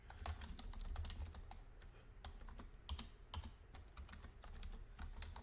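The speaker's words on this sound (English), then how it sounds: "I know I should be filling the silence with something better than just typing." Rapid, irregular clatter of keys on a computer keyboard during a Father's Day livestream, steady close-up typing with crisp individual keystrokes and short pauses, no voices.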